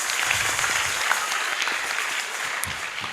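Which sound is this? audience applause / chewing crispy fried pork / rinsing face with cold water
audience applause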